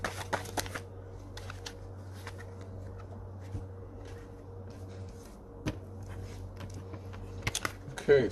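Tarot cards are shuffled by hand, with quick riffling clicks bunched at the start and again near the end, fainter taps between, all over a low, steady room hum.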